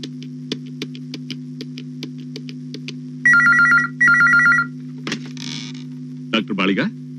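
A telephone rings in a series of steady electronic bursts, with louder double trills midway, over a constant low mains hum in a quiet indoor scene; a brief voice follows near the end.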